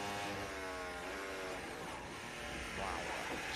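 A Formula 1 car on slick tyres screams past at high revs on a damp track at Maggots corner, with rising and falling pitch, loud and continuous, with a brief shift in tone near the end.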